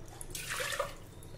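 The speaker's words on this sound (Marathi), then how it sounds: "आता यामध्ये आपण पाणी घालूया" Water is poured into a pressure cooker holding washed toor dal, making a brief, faint splashing gush that swells and fades within about a second, with no talk.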